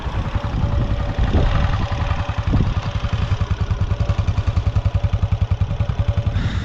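Single-cylinder SPARK R-14 motorcycle engine running steadily up close, a rapid even chugging pulse with mechanical clatter and a slight rise near the end.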